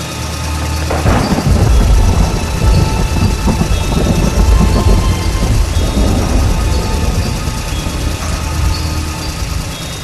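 A heavy thunderstorm with steady, dense downpour roars continuously, with a deep rolling rumble of thunder swelling near the start and again midway, loud and unbroken with no voices.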